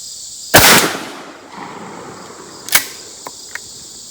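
A Mossberg 835 shotgun fires a 3.5-inch 12 gauge buckshot reload at an outdoor range. The single sharp blast is loud and close and rings briefly, followed by a couple of faint clicks and a thud.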